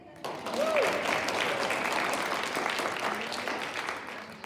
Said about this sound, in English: So, cheer for Betsy.